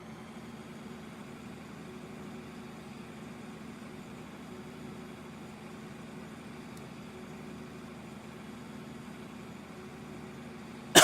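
Tractor engine in the video game Farming Simulator 2013, a steady low idling rumble held evenly throughout, moderately loud, with a sudden burst at the very end.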